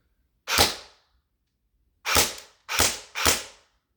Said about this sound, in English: I'm hearing the BBs hit in the backstop I got.